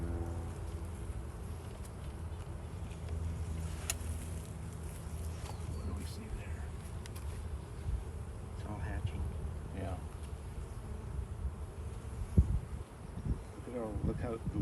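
Honeybees buzz around an open hive during an inspection, a steady close hum with individual bees droning past the microphone, while people talk quietly nearby.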